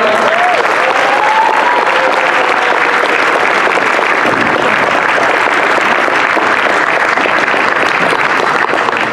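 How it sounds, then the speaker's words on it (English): Loud, sustained applause from a convention crowd at Anthrocon 2018 greeting a performer coming onstage, a thick continuous roar of clapping, with a brief whistle-like tone near the start. "Give him a round of applause"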